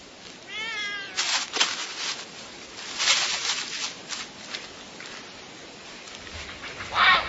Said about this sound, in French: Les chatons seront bientôt assez grands pour que Koshka les laisse vivre leur vie